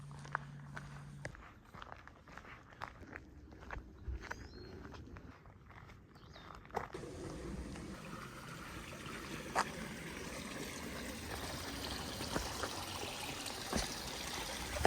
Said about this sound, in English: I finally hear water